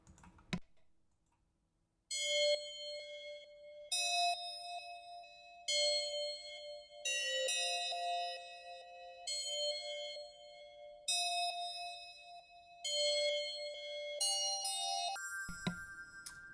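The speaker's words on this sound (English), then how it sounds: "added these bells that kind of accent that a little bit, or just kind of give it another layer" Bright bell tones accent a chill trap beat, ringing in repeated phrases over a steady melodic line after a short quiet start, with no voices.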